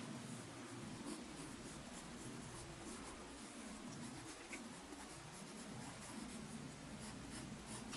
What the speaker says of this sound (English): sketching things out like this